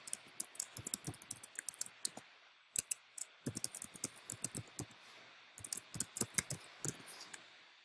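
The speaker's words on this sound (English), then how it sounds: "Now we'll type in our home address." Irregular bursts of keystrokes on a computer keyboard as a home address is typed, crisp clicking taps in quick clusters separated by short pauses, close and alone with no talking.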